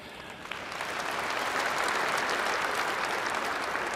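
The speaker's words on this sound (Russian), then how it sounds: "присоединяюсь к вашим аплодисментам" A large audience at a Russian presidential address to the Federal Assembly breaks into applause that swells within the first second and then holds as a thick, even roar of clapping with no voices over it.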